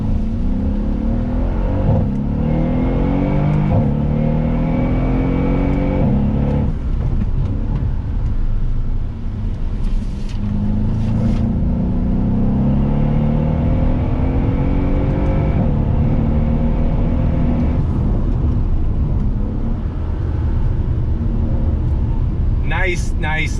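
Mercedes-Benz AMG SL63 roadster (2019) pulling away in first gear, a steady close engine rumble with rising harmonic sweeps as it accelerates, continuous and loud throughout, with a voice talking over it.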